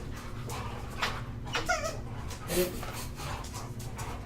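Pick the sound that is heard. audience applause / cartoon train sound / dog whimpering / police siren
dog whimpering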